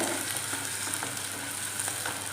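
Shallots sautéing in hot oil for a fish curry give a steady, close sizzle that hisses evenly throughout, with no voices.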